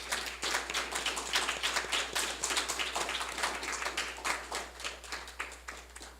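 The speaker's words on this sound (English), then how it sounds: "Could we give them a round of applause?" A hall audience claps steadily for honored students at a school ceremony, a sustained wash of many hands at moderate loudness with no voices over it.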